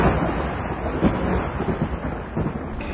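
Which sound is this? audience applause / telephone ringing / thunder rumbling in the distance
thunder rumbling in the distance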